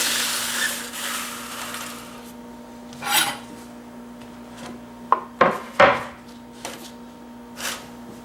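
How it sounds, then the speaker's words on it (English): A knife slices through grilled lamb on a cutting surface, giving a few close, brief cutting and scraping knocks with quiet gaps between them and no voices. "We'll just cut a few slices off here."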